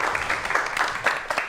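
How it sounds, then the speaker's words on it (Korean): Studio audience clapping to welcome two guests onto a Korean science lecture program stage, a steady dense round of applause with rising bursts, moderately loud and continuous throughout. "여러분 큰 박수로 환영해 주시기 바랍니다."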